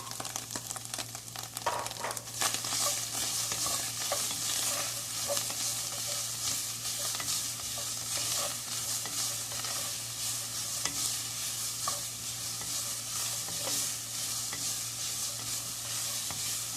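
Chorizo with onion and chile frying in a pan, a dense continuous sizzle with steady stirring scrapes throughout over a low constant hum, busier clattering in the first couple of seconds.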